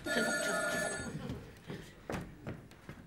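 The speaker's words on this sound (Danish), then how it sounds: "Telefon." An old-style telephone bell rings loudly for about a second, its harmonic tones ringing out, then stops; afterward footsteps, knocks and other movement sounds follow in a room.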